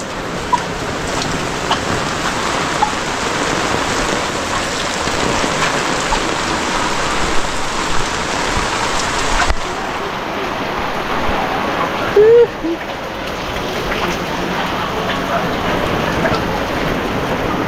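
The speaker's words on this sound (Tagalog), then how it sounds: "Lakas ng ulan." Heavy rain pours down by the sea in a dense, continuous hiss, loud and close, with a faint voice briefly heard beneath the downpour.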